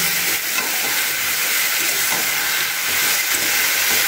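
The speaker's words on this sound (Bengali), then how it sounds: "মিশিয়ে খুব ভালো করে নাড়াচাড়া করে কষিয়ে নিতে হবে এটাকে" Kohlrabi with tomato and peas being stirred and sautéed in a wok gives off a steady, loud hiss of steam and sizzle, with faint scraping from the stirring, and no voices.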